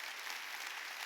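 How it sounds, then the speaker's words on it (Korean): An audience claps together during a Korean church worship service, a brief steady patter of applause heard at a moderate distance with no voices over it. "박수 좀 쳐줘요."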